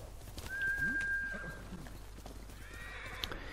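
A horse whinnies in the video game Ghost of Tsushima, a fairly faint neigh with hooves clip-clopping and a light game ambience underneath, no talking.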